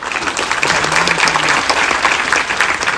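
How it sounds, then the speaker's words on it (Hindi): Audience applause fills Siri Fort Auditorium at a Delhi film festival, a dense, steady wash of many hands clapping close and loud throughout, with a faint voice briefly underneath. "इसमें आपकी तालियां पा रहे हैं"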